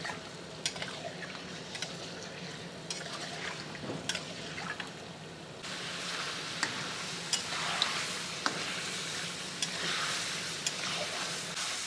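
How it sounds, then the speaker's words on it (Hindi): Lamb pieces fry in oil and salt in a karahi, a soft continuous sizzle with scattered clicks and stirring knocks that thickens and grows brighter in the second half. "7 से 8 मिनट तकरीबन अच्छे तरीके से नमक और ऑयल में इसको इस तरीके से फ्राई करेंगे"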